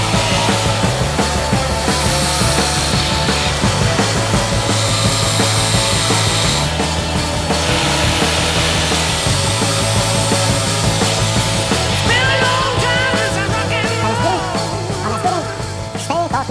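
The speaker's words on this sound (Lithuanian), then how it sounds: "Imsime kampinį šlifuoklį, nupjausime vamzdelius" An angle grinder cuts through pipes while a heat pump compressor is being removed, a loud, continuous harsh grinding and rasping that runs without pause throughout.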